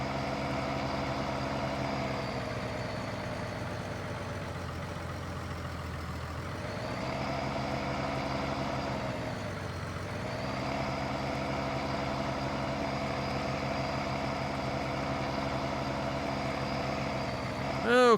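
In Farming Simulator 19, a truck hitched to a milk trailer hums at a steady idle, its low engine drone dipping and swelling slightly, with someone talking over it throughout.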